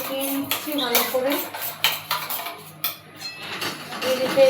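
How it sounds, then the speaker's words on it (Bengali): Sour yogurt (curd) whisked briskly in a bowl in a home kitchen, with clinking utensil strikes against the dish in an uneven rhythm, a voice speaking faintly underneath. "তো দইটা আমি এখানে ফেটিয়ে নিচ্ছি ভালো করে।"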